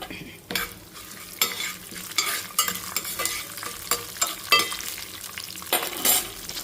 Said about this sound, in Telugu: సో ఇది కొంచెం వేగుతుంది